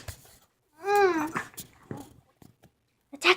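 A puppy whimpers in a rising, wavering whine, followed by short yelps and a brief sharp bark-like cry near the end, close and fairly loud against a quiet room.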